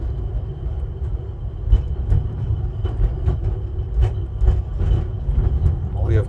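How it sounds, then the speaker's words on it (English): A tiny tram running at Seaton, a continuous low rumbling drive with repeated rattling clicks and knocks over the track, close by, with people talking over it. "come to Seaton to ride tiny trams."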